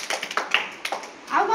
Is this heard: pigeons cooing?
no